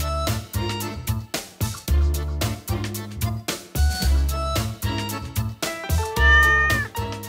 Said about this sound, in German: Es gibt ja sehr viele Katzen, die sehr viel kommunizieren und schreien auch.